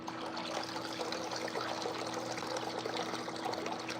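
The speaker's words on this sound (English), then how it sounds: "I'm gonna go ahead and fill it up one more time." Liquid pours in a steady, faint stream into a slush machine as it is refilled, with a low machine hum underneath and no voices.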